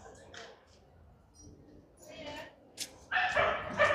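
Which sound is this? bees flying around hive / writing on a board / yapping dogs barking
yapping dogs barking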